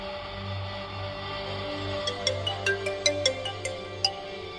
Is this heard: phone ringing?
yes